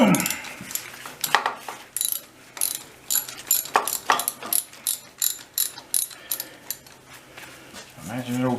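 Socket wrench ratcheting on an old 300 Utility tractor, a series of quick clicking bursts repeating in an uneven rhythm, close and fairly loud, with someone talking briefly at the start.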